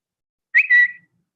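The Twitter sound logo, a short bright chirping whistle-like tone lasting about half a second, clean and isolated against silence.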